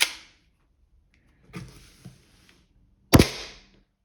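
Tokyo Marui Beretta M92F chrome stainless gas blowback airsoft pistol firing three separate sharp cracks with slide clacks, spaced over a few seconds, the last loudest, close and in quiet surroundings.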